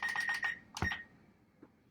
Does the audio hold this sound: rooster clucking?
no